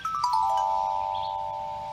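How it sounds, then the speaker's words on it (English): A Woodstock Chimes pentatonic chime instrument from Vermont is struck with a mallet, several quick bright notes in succession settling into sustained, ringing metallic tones that slowly fade, close and clear. "this instrument is from Woodstock Chimes in Woodstock, Vermont"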